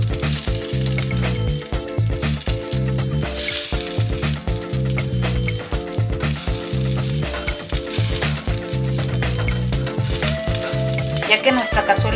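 Butter melts and sizzles with oil in a hot pan for pork with rajas, a steady frying hiss running throughout under prominent background music.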